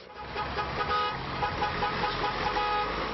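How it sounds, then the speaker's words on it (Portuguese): Busy road traffic with car horns honking repeatedly over a steady engine rumble, fairly close by. "já aparece um apressadinho buzinando atrás"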